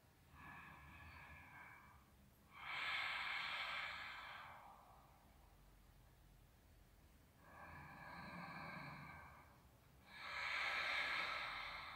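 Slow, deep breaths during a gentle yoga stretch, with two long inhale-exhale cycles that each rise into a soft, airy whoosh, close and unhurried, with no talking.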